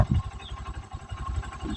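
A motorcycle engine idles steadily with a low, pulsing putter, moderately quiet and continuous throughout.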